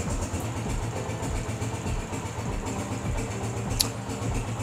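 A Honda CG 125 motorcycle engine idles steadily to warm up, a low, even thumping rumble running throughout with a faint sharp click near the end and no talking.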